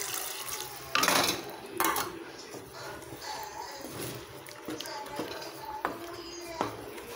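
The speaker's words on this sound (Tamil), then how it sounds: "கரைச்சி வச்சுருக்க புளியும் ஊற்றிடலாம்" Tamarind water poured into a pan of coconut-paste curry for egg kuzhi paniyaram kulambu, a soft liquid splash with a few brief louder pours and light clinks of the pan, fairly quiet.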